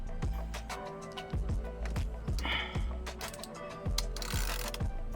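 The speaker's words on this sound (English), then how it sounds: "To remove the center bolt off, you're gonna need a 10mm hex bit and an extension and your wrench." A ratchet wrench with an extension and a 10mm hex bit clicks through repeated strokes to remove the center bolt of a Tesla steering wheel, each stroke a quick burst of close, crisp clicks.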